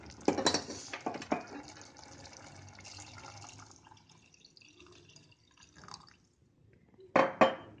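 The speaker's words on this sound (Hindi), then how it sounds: "अब इसमें डालेंगे पानी।" Water splashes and trickles into a cooking pot of soybean khichdi, a burst of pouring at the start, quieter dribbling in the middle, then a short final splash.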